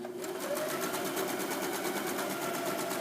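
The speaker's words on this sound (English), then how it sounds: "I'm then going to continue to sew one big circle." A sewing machine runs nonstop while stitching a big circle on the top of a bag, a close, rapid, even needle chatter that holds at one steady speed throughout, with no voices.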